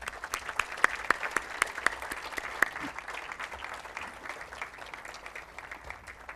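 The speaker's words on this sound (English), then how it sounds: "I ask you for your applause for these visionary leaders of LUMS." An audience applauds at the 2011 LUMS 25th anniversary celebration and School of Science and Engineering inauguration, giving dense, fairly distant clapping that peaks in the first few seconds and then gradually thins and fades, with no talking over it.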